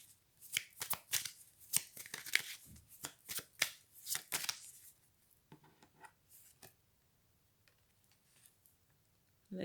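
Oracle cards are riffled and shuffled by hand in quick rapid bursts, crisp papery flutters repeating for several seconds before fading to quiet handling and near silence.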